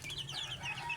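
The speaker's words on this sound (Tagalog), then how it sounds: "Ito yung aming sisiw." Young chicks peep in a short burst of high, chirping calls close by over a low background hum.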